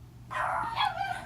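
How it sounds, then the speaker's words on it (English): A dog lets out a single short, sharp bark, fairly close, over a quiet indoor background. "Sorry about the dogs."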